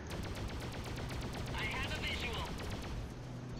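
Rapid gunfire crackles in the space combat game Freelancer, a fast run of sharp repeated shots with laser-like zaps in the middle, fairly faint, under someone talking.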